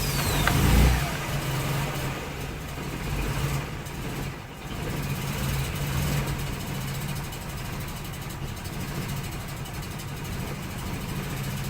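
A Mazda RX8 rotary engine idles with a foot held slightly on the throttle, a steady, fairly faint low rumble with slight unevenness and a small dip midway.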